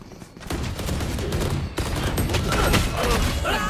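Rapid gunfire from the video game Valorant, a dense sustained fusillade of overlapping shots that runs loud and close through the whole stretch.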